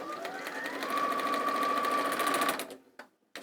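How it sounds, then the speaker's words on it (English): A sewing machine back-stitches fabric in a steady, close, whirring run for about two and a half seconds, then winds down and stops, followed by a couple of faint clicks. "Back stitch it."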